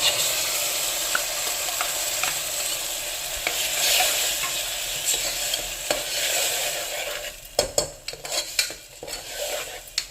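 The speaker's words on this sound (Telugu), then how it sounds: "ఇప్పుడు మనం దీంట్లో టమాటా ఆల్రెడీ మిక్స్ చేసి పెట్టుకున్నాం కదా ప్యూరీ దాంట్లో వేస్తున్నాను" Tomato puree poured into a hot pan for tomato rice, bringing a steady sizzle and hiss that is followed by metal spoon scrapes and clinks against the pan near the end, close up with no talking.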